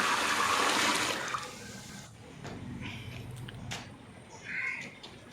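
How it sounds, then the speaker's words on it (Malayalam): Water gushes and splashes steadily into a pot of rice for soaking for the first couple of seconds, then softer trickles and clinks follow. "അതൊരു പാത്രത്തിൽ ഇട്ട ശേഷം നമുക്ക് വെള്ളം ഒഴിച്ചു കൊടുക്കാം."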